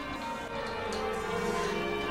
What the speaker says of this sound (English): It opens with a sound of 150 bell ringers.